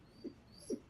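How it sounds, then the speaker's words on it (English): A dog whines twice, short soft high whimpers a moment apart, faint and quiet against a hushed room. "That's why the dog is whining, if you can hear that"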